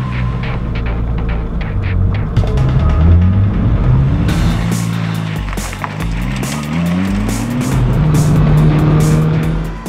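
A turbocharged Ferrari F40 engine revs hard and climbs through gears, loud and close, with rising harmonic whine and brief drops between shifts.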